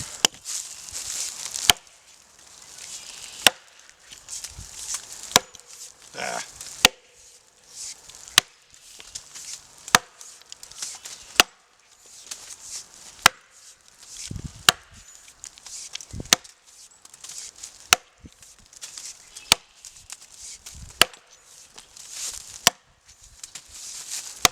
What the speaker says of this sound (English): Now I'll just try some chopping.